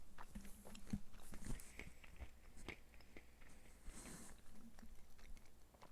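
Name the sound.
chewing food near the microphone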